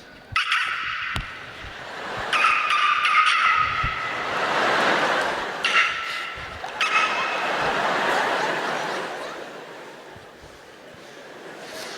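A voice imitates basketball shoes squeaking on a court, giving two or three high, squealing bursts over a noisy, rumbling background.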